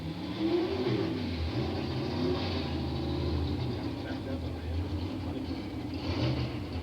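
A 1981 Chevy Camaro Pro Stock drag car with a 500-cubic-inch engine roars steadily at a 1983 drag strip, a loud sustained engine drone that swells near the end.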